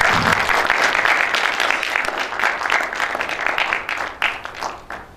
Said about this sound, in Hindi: इन सब के लिए जरूर तालियां होनी चाहिए